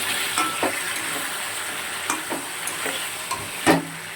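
Chicken frying in a pan in a home kitchen, a steady close sizzle broken by several sharp scraping stirs and utensil knocks, with no voices.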